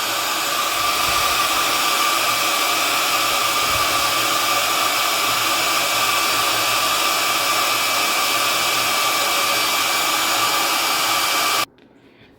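A hair dryer blows loudly and continuously over a loose-style watercolor painting of a house for about twelve seconds, a steady close whooshing hum that cuts off abruptly near the end.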